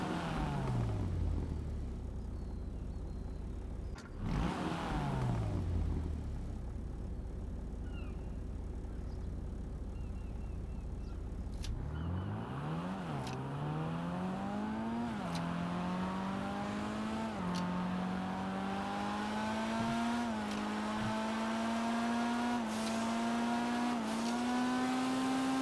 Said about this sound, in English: most of the time you're listening to the tire squeal in this because it's a Drift Hamper